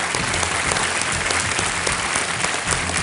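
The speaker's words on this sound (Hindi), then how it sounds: "तालियों के साथ इनका स्वागत शरद कुमार" A studio audience on the KBC quiz show bursts into sustained, loud applause to welcome a contestant, dense clapping from a crowd filling the whole moment.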